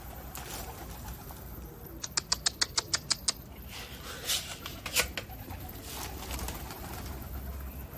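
Pigeons being fed make a quick burst of fluttering wing claps followed by soft scattered flapping and pattering, fairly faint and outdoors, with no talking.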